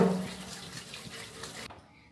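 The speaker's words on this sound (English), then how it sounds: "I'm just gonna wash it one more time" Tap water running steadily over raw shrimp being washed in a kitchen sink, a soft even splashing rush that cuts off abruptly near the end.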